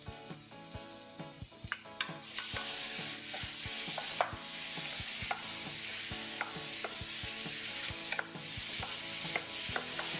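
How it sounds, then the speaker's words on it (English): Pork stirred and frying in a pan with red onion, a steady close sizzle broken by repeated sharp scrapes and clacks of a utensil against the pan, with no talk. "we have to stir the pork for just like 1 or less than 2 minutes"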